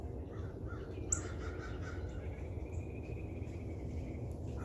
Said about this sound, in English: while these birds are singing like this